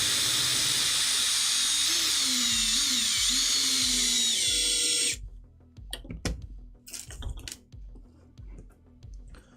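Screws driven by a high-pitched power driver into a 3D printed tank part, melting into the plastic, a loud whining buzz for about five seconds, then quiet with scattered clicks and handling noises.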